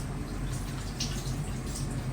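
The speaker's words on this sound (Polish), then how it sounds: "I teraz przekładam pomidory do zimnej wody." Tomatoes are moved into a bowl of cold water in a home kitchen, giving soft splashes and trickling water sounds, fairly quiet with a brief brighter splash midway and no talking.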